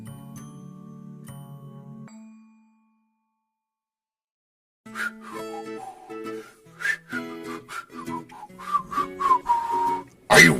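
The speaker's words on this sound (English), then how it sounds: "Are you whistling or something?" A person whistles a short melody of clear sustained tones, pauses in silence, then whistles a livelier run of notes with chime-like tinkling mixed in, fairly quiet and close.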